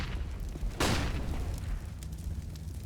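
A grenade in Counter-Strike bursts with a sudden loud boom about a second in, its blast decaying over a noisy background of game ambience, heard once with no talk.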